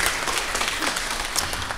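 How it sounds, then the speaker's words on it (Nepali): Audience applause at a Nepali stage event, honoring a singer's family; dense steady clapping from a crowd, moderately loud and continuous throughout. "यो महान कामलाई एकचोटि जोरदार तालीले हामी सम्मान गरौँ"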